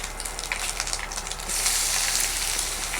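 Coconut frying in hot oil after prawns were fried in it, a steady crackling sizzle that swells louder halfway through as pieces hit the pan; no voices.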